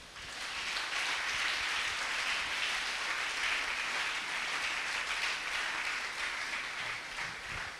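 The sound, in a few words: congregation applauding and cheering the Lord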